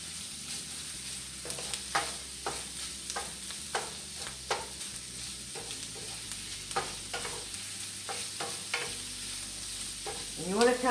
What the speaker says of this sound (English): you want to kind of keep stirring it because your sausage will brown up really quick.